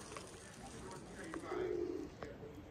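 Pigeons coo near an old church in Nessebar's old town, Bulgaria, with one clear low coo in the middle over soft outdoor background and faint voices.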